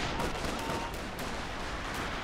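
Infantry gunfire in Company of Heroes 2, a dense continuous crackle of rifle and machine-gun bursts with distant battle noise throughout.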